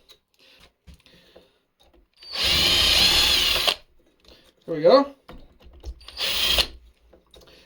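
A power drill with a 2.5mm bit whirs in two short bursts while pre-drilling a hole for a spinner bait, with a brief spoken remark and small handling clicks between them.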